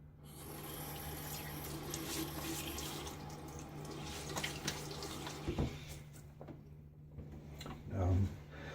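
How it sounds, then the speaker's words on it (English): Cold, hard tap water runs and splashes at a bathroom sink as a face is rinsed before a shave, a steady running stream with a few louder splashes near the end. "I'm going to splash my face."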